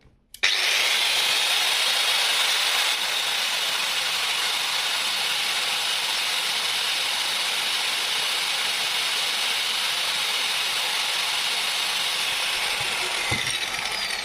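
Vitals Ls 1290KNvp angle grinder with a 125 mm disc spinning at its top speed setting, a loud, steady high-pitched whine that starts abruptly and holds unbroken, close up and alone.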